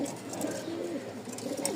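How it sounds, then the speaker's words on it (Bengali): A male Lal Sundori pigeon coos close by in low, soft, rolling notes that repeat steadily over a faint background hiss, with no talking. "আমি এটারও ডাক দেখাচ্ছি। এই দেখেন লাল সুন্দরী, খুব সুন্দর একটা নর"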